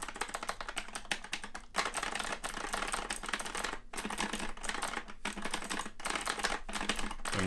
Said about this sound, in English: Have a little bit more noise because the clicky switches in there.